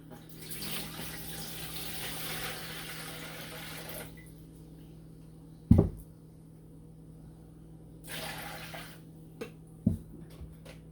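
Water is poured into jars of okra for canning, two separate splashing pours a few seconds apart with a sharp clunk of glass or metal between them and a quiet hum underneath.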